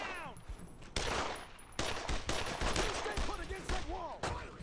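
Suppressing gunfire in the World War II shooter game Brothers in Arms: loud, dense bursts of rifle and machine-gun fire repeat in quick succession, with voices mixed in between the volleys.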